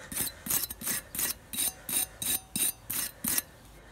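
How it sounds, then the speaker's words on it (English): A small brush scrubs dirt off front brake parts on a Nissan Qashqai with quick, regular scratchy strokes, about ten in four seconds, close and fairly quiet, with no talk. "a small brush in between, like so, just to get the worst of it off"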